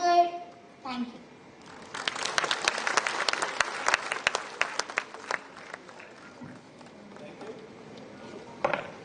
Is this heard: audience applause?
yes